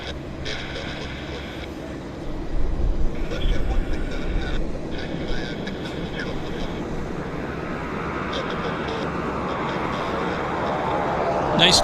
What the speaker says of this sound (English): Here comes our Beech 1900D. Taxiing in here to the south side.